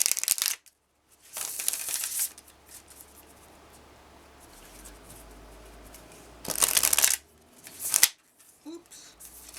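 A Moonology oracle card deck being shuffled by hand in short bursts of crisp riffling and papery flutter, separated by brief quiet pauses, close and fairly soft, with no talking.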